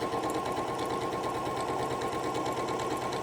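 Quilt block pieces being stitched on a sewing machine, a close, steady, rapid mechanical whir and needle rattle running continuously and alone.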